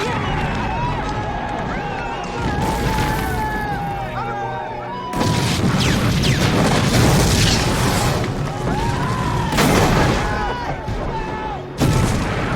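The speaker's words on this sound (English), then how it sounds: "Our guys are bombing us! Take cover!" Bombing explosions in a war film, heavy booms and rumbling blasts rolling through a loud, dense battle soundtrack with shouting voices mixed in.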